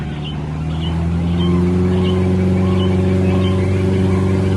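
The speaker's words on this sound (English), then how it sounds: "it is the sound of the boats on the Jungle Cruise, that motor sound" A Disneyland Jungle Cruise boat motor in Adventureland chugs with a steady, loud low drone and a rising hum that swells slightly after the start, close by and alone, with faint chirps above.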